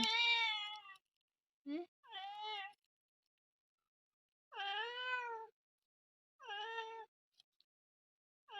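A cat cries out in a series of five loud, drawn-out meows separated by short silences, each one close and clear with nothing else heard around it.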